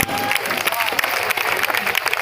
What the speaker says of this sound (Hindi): इनकी पूरी टीम के लिए एक बार पूरा मजमा ताली बजाता